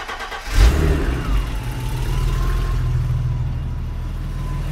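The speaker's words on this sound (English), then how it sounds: "Now the engine's running." A BMW E30 325i Sport with the M20B25 inline-six cold-starts with a sharp crank and catch, then settles into a steady, close idle with a rising and falling whine over the engine rumble.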